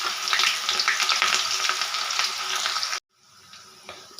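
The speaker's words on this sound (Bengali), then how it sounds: "গোটা গরম মশলা, একটা শুকনো লঙ্কা, একটু গোটা জিরে ফোড়ন দিয়ে দেবো।" Whole garam masala, a dried red chilli and cumin seeds crackle and sizzle loudly in hot mutton fat, a busy bright frying hiss that cuts off abruptly, followed by quieter faint kitchen clatter.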